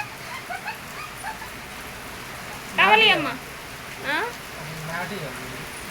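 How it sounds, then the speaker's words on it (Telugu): Rain pattering down in steady drops on a surface, a constant soft patter filling the background while a child and an adult talk briefly over it. "టపటపటపటపా అని చినుకులు పడుతున్నాయి"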